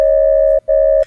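A Serum ring-modulated sine patch on D0, with the modulator raised five octaves, gives a loud, pure, steady tone much like a dial tone, heard in two sustained notes split by a short gap.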